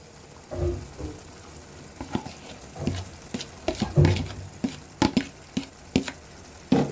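Masala being sautéed in a pan before dried loitta fish goes in, with irregular stirring scrapes and soft sizzling bursts close up and no voices.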